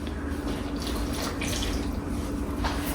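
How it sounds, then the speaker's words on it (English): Water pours steadily into a mixing bowl while making bread dough, a continuous close splashing trickle at moderate volume. "I already had 1 cup ready, so we're going to pour that in."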